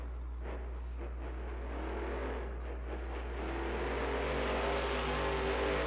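A monster truck runs at full throttle during a freestyle run in Snapdragon Stadium, San Diego. The engine roar builds and holds loud over a deep steady hum, with faint crowd and arena noise behind it.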